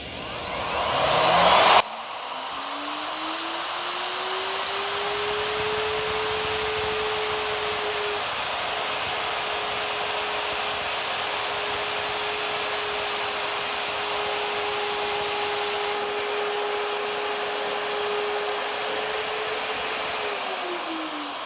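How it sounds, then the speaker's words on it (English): A plunge router spins up to full speed and cuts letters into composite sign material, giving one loud, steady, close motor whine that runs unbroken for about twenty seconds. "So let's start to cut the first letter"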